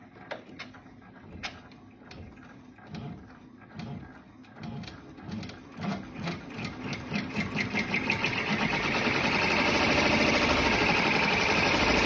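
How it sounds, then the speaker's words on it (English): An embroidery sewing machine stitching a tack-down line on appliqué fabric, rapid rhythmic needle clatter that starts in short bursts and builds to a steady, loud continuous whir. "the next will be a tack down stitch for the fabric"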